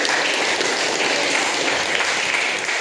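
A group of people applaud steadily and densely for a few seconds, a loud continuous patter of many hands clapping without a break.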